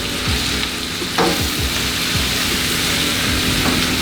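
Flour browning in the hot fat of a pork chop pan for gravy, a steady loud sizzle with spoon scrapes and stirring clatter running through it, no talk.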